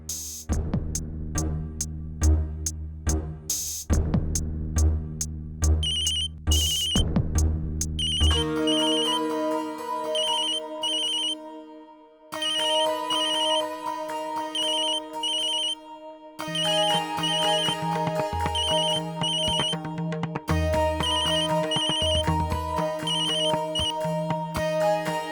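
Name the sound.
phone ringing, call to Naitik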